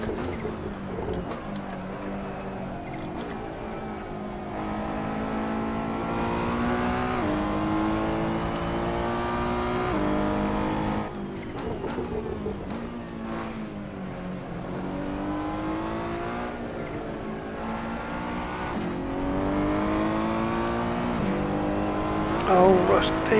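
A race car engine at full power in the Assetto Corsa sim, droning steadily and rising in pitch through long pulls with a brief drop near the middle, close and continuous while someone talks over it.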